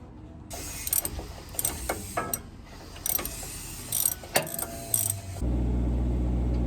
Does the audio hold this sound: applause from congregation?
no